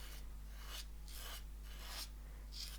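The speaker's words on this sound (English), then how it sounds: "I'm getting a really nice texture and that proper scrape" Watercolour brush bristles scrape across textured paper in four rasping strokes, each a dry, bristly rub rising and fading, close and fairly quiet over a steady low hum.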